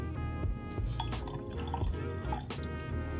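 Knob Creek rye whiskey pours from the bottle into a glass for a blend, a steady liquid trickle with small drips and a light glassy clink throughout, close and fairly quiet.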